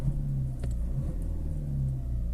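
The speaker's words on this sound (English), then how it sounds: "There you go, vehicle starts." A Hyundai Tucson fitted with a Ghost 2 immobiliser starts, its engine settling into a steady low rumbling idle close by, with no talking.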